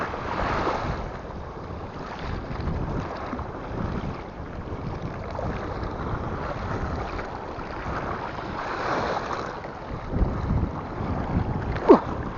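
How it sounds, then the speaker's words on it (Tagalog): Gusty wind at a fishing spot rumbles and roars across the microphone for a long stretch, swelling in waves, with a faint short whistle late on. "Medyo maingay ang hangin."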